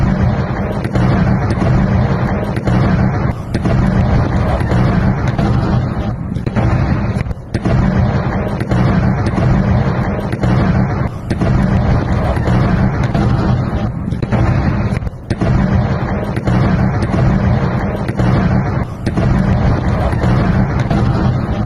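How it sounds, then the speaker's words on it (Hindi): Missile strike explosions at Iran's Abadan port come as a dense, loud barrage of booms and rumbling blasts, with repeated sharp hits and wind-buffeted roar throughout. "पश्चिमी ईरान में इजराइल का मिसाइल हमला"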